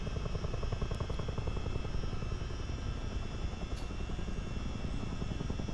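Twin-rotor CH-47D Chinook helicopter in a flight simulator game, continuous rhythmic rotor chop over a steady engine drone, even and close throughout with no talk.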